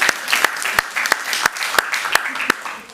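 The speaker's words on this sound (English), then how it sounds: "give them a round of applause." A crowd at a city council meeting applauds steadily, dense clapping with a few sharp, close claps standing out, and murmured voices mixed in.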